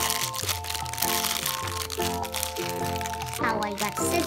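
Plastic wrapping on an LOL Surprise pet doll toy package crinkles and crackles as it is opened, with music playing alongside.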